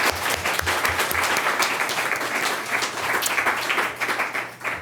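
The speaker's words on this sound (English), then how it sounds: "I just have to give a round of applause for Steve" A room full of people applauds steadily at a physics reading room dedication ceremony, a dense, continuous round of clapping that holds for several seconds without talk.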